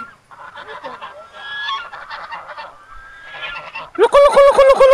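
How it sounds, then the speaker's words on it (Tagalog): A turkey and ducks honk and gobble in overlapping calls, softer at first, then a loud, rapid burst of nasal honking close by. "O, may pabo pa pala eh."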